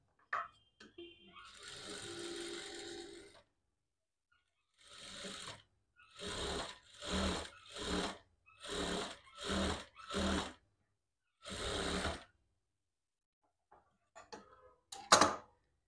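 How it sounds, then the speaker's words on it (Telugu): A sewing machine runs a double stitch while altering a dress, in a string of short whirring bursts separated by pauses, close and fairly loud, with an initial longer run and a few faint clicks at the end. "ఈ మార్కింగ్ వరకు కుట్టు వేసుకొని డబల్ స్టిచ్ వేయాలి"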